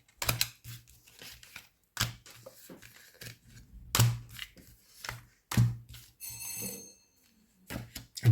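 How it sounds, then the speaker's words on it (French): A bell rings indoors as a delivery arrives: a brief, bright tonal ring near the end follows scattered knocks, clicks and handling noises. No speech is heard. "Ah bah attendez, ça sonne."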